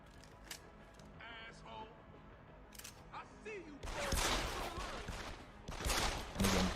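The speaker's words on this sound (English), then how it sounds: "And again, blind fire." Blind-fire gunshots in Deus Ex: Human Revolution, played on Wii U: scattered sharp shots early, then a dense, loud burst of rapid gunfire in the second half.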